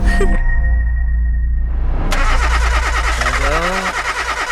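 An old, worn-out car engine cranks and catches, then runs loud and rough with a revving, uneven roar close by, a high whine fading out early on.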